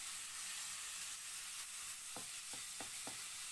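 Eggplant sisig with ground chicken fries in a pan with a steady, bright sizzle, and a few sharp clacks of a utensil stirring near the end.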